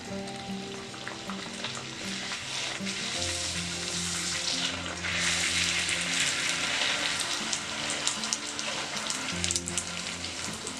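Panipuri puris deep-frying in hot oil at home, a dense crackling sizzle close by that grows busier midway, with light taps and occasional utensil clinks.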